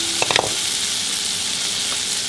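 Butter sizzling and frying in a pan, a steady loud crackling hiss with a few brief clinks of stirring near the start and no speech.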